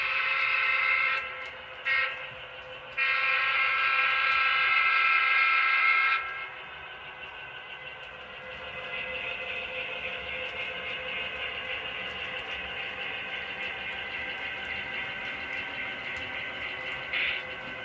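An Okanagan Valley freight train pulls into Penticton Yard, its horn giving two short blasts and then a long sustained one before fading into a steady low rumble of rolling cars, with one more faint horn note near the end.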